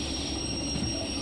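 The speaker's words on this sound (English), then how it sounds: "So the train's going to shoot its way through there at however fast it's going to do that." A video-game train runs along its rails with a steady mechanical rumble and a faint high wheel squeal, continuous and moderately quiet over a short stretch.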